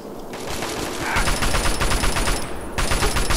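Assault rifle gunfire in Fallout 3, loud sustained bursts of rapid automatic shots close up, running almost continuously with brief gaps and no talk over them.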